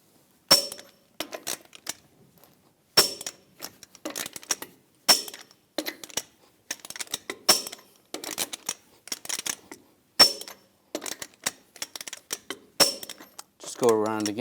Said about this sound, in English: Now we're going to torque the lug nuts to 140 foot-pounds in a cross pattern to tighten the wheel down evenly.